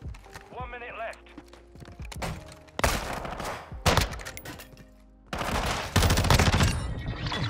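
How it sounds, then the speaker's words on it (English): Gunfire from an SPR and a Razorback rifle in Modern Warfare 2 comes in loud, dense bursts of shots mixed with game effects, while a player talks over the action. "I shot him with the SPR and then I shot him with like three bullets from the Razorback"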